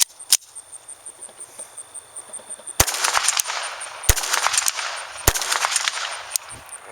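A MAB .32 ACP model GZ pistol fires sharp, loud, cracking shots spaced roughly a second or more apart, each followed by a short ringing tail outdoors, with quieter clicks between.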